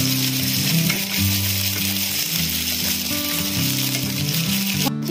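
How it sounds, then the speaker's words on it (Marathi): Ginger garlic paste stir-frying in a pan on medium gas gives a constant close sizzle with occasional stirring scrapes, joined by a tonal hum and a brief clatter near the end. "अद्रक लसूणची पेस्ट टाकूया आणि त्यालाही आपण व्यवस्थित मीडियम गॅसवरती स्टर फ्राय करून घेऊ"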